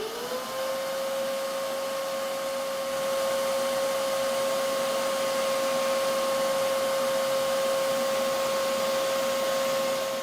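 A wet/dry shop vacuum runs continuously, a steady whining motor roar with a high tonal hum, as it sucks up sawdust on a floor.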